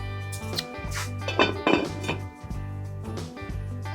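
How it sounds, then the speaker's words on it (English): A metal lid set onto a cooking pot of simmering German beef peasant soup gives a couple of close clinks and clanks, alone with a low steady hum behind. "Going to get that lid on there"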